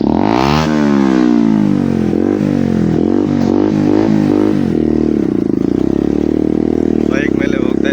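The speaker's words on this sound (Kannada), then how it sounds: "ಈಗ ಬೈಕ್ ಮೇಲೆ ಇದ್ದೀನಿ ನಾನು." A motorcycle carrying riders over a rough, broken rural road revs in several quick surges, its engine pitch rising and dipping, then settles into a steady drone, with people talking over it.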